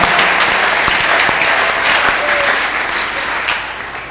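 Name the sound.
audience applauding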